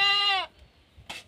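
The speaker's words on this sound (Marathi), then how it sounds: "आणि इकडं आपल्या शेळ्या" A goat on a farm gives one loud, clear bleat close by, followed after a short pause by a brief second cry.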